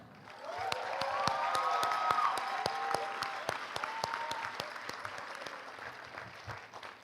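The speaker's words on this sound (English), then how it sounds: "Give them a round of applause, guys" Audience applause at a community college commencement ceremony, a steady wash of many hands clapping for several seconds with scattered sharp claps standing out, faint tonal whistles or cheers over it early on, fading slightly toward the end.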